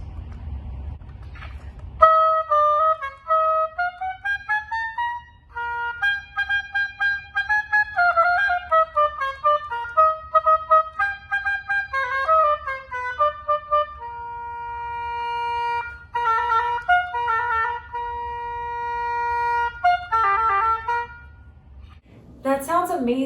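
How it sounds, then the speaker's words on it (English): An oboe plays a melody alone for over twenty seconds, with clear sustained notes and quick runs, some held tones and short phrases, all close and prominent. "Hi Alicia, can you show us the double reed and what the oboe sounds like?"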